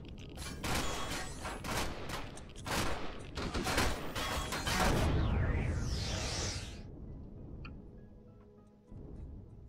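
Explosions and gunfire in the sci-fi survival game Empyrion: Galactic Survival, a dense run of loud booms and crackling shots over several seconds, then a sweeping whoosh before the din fades to quieter rumble.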